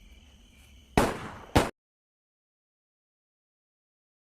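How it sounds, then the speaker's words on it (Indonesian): Two sharp gunshot bangs in quick succession, the first louder and longer, followed by abrupt dead silence. "mendengar 2 kali suara tembakan yang membuatnya sangat-sangat terkejut"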